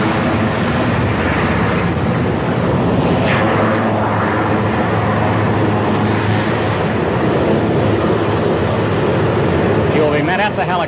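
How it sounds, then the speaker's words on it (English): A presidential helicopter taxis to a stop at a 1963 San Diego arrival before a large crowd, its loud, steady engine and rotor roar filling the scene close by throughout. "And here is the president's helicopter taxiing to a stop"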